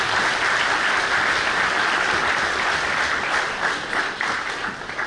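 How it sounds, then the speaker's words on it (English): An audience at a college freshman orientation applauds to welcome a professor, a loud, dense, continuous wash of clapping that stays even and full, easing only slightly near the end. "Please join me in welcoming Professor Meenakshi Rana with a heartfelt applause."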